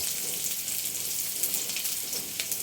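Garlic and onion sautéing in a pan, a dense continuous hiss of sizzling oil, steady and close, with no voices.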